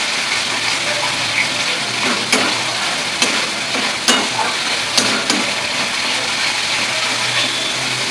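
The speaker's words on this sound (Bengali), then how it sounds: "ভালো করে কষিয়ে নেবো মশলাটা" A spice paste with slit green chillies and a little sugar sizzles steadily in hot oil, with a few sharp scrapes and knocks of a stirring spoon against the pan.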